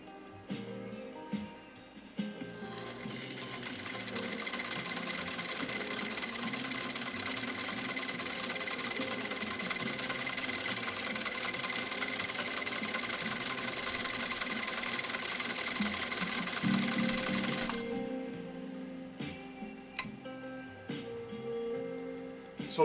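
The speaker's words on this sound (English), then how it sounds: "I'm going to go ahead and buzz down this side" 1923 Singer 66-1 sewing machine stitching polyester ribbon, a steady close whirring buzz running for about fifteen seconds, with quieter handling clicks before and after.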